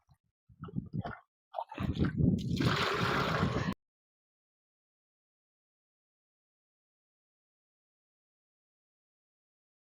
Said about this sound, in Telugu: ఇందులో కొంచెం కొంచెం తీసుకొని మొక్క మొదట్లో పోసుకుందాము